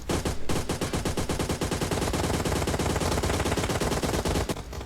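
Rapid automatic gunfire from PUBG Mobile, a dense unbroken stream of loud, close shots running nearly the whole time before cutting off near the end, with no talk.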